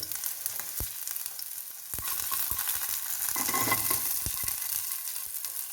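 Close, steady sizzling of onions frying in hot oil in a hot pan over low flame, punctuated by a few sharp taps and scrapes of a utensil against the pan.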